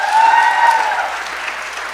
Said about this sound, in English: Can we get one more round of applause for Dr. Kadeba, please?